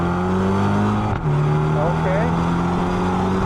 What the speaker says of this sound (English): Since we're gonna do a little acceleration here, let's go ahead and put it in sport mode